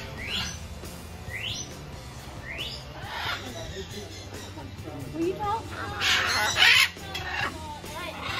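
Parrots at Parrot Mountain in Pigeon Forge, Tennessee give repeated rising squawks and chirps, with a louder burst of harsh calling near the end, heard close and mixed with people talking.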